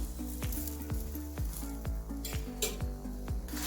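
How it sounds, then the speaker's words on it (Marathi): An egg paratha fries on a pan with a quiet steady sizzle, punctuated by regular rhythmic taps and clinks roughly every half second, close and faint. "छानपैकी दोन्ही बाजूनं भाजून घ्यायचा आहे तो"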